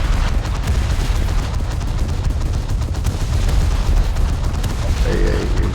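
Automated naval gunnery aboard the battlecruiser HMS Renown in a sea battle game, a dense continuous rumble of rapid cannon and anti-aircraft fire, steady and loud throughout.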